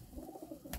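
Pigeons coo in low, throaty rolling calls, close by, ending in a brief flutter of wings or scuffle as the birds squabble.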